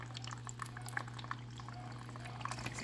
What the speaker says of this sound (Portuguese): Já começou a cair a água, ó.